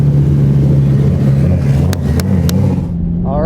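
A drift car's engine runs with a loud, steady low drone as it rolls onto a track at a Freedom Factory drift event, with a few sharp clicks near the end and the motor then settling.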